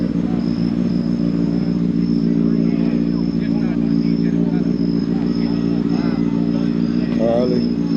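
A Harley-Davidson motorcycle engine idles at a motorcycle event, a steady low rumbling throb held throughout, with people talking over it and a faint high whine in the background.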